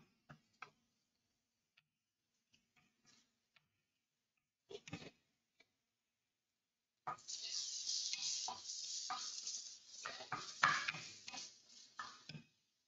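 Bacon frying in butter for carbonara, a steady bright sizzle starting partway through and running several seconds, with a few scattered clicks and taps before it and no talk over it.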